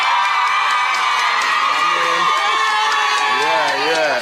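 A crowd cheers and shouts loudly and continuously at a talent show, a dense wall of whoops and yells with children's voices mixed in throughout.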